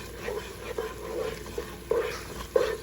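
A spoon scrapes and stirs dry cream of wheat (rava) in a hot pot on the stove for upma, giving soft rhythmic scraping strokes over a steady low sizzle, close up with no talk.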